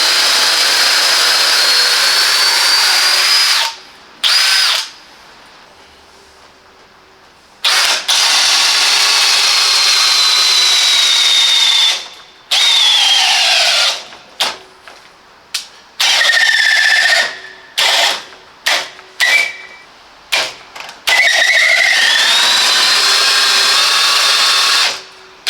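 A Parkside Performance 20V PPBSA 20-Li A1 cordless drill runs up to a high whine in loud, close bursts, some long and steady, others short triggered pulses, with brief silences and speed changes between them.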